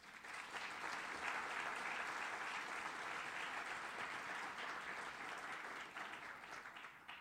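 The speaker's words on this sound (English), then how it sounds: "Please join me in a warm round of applause for our sponsors." Audience applause for event sponsors at a City Club gathering, continuous even clapping from many hands at a fairly low level, with no talking over it.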